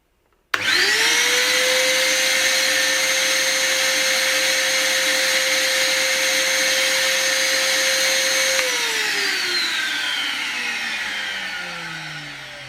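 A vacuum pump holding a solder paste stencil flat on a PCB switches on abruptly and runs with a steady loud whine and hum, then winds down with a falling pitch near the end.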